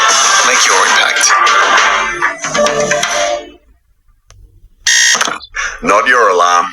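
A loud, shrill alarm ringing in a TV advertisement, bursting in before a brief near-silent pause and then sounding again in short, repeated bursts.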